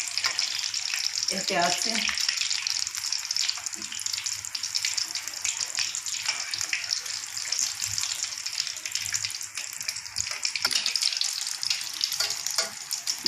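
Potato kachoris deep-frying in hot oil, a dense, continuous, close sizzle and bubble that fills the whole stretch, with a few brief scrapes as they are turned and a short spoken remark over the top.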